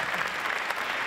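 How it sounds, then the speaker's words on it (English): Dense, steady applause from a conference audience at an executive business forum on impact, a continuous wash of clapping with no break across the short stretch. "we owe you a round of applause for that"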